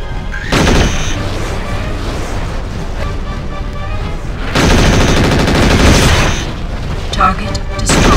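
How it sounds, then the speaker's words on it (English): Mechwarrior 4 combat brings dense, loud weapon fire and missile impacts, with heavy booms and rapid gunfire that swell in several waves over steady battle noise. "Hey, we're taking fire. Looks like we've got some LRMs to deal with."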